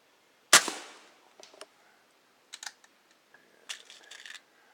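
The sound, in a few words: 2240 carbine air gun shooting a pellet at a pop can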